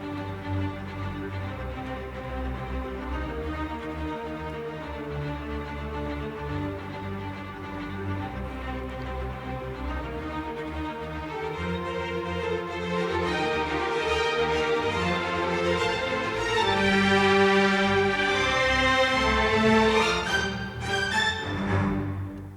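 Orchestral strings play short, detached bouncing notes in a steady rhythm, building in intensity and brightness toward the end.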